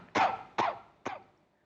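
Three sharp, close coughs in quick succession from a sick man whose unstable condition brings shortness of breath and fluctuating fever during the corona outbreak, each burst fading quickly with no talk.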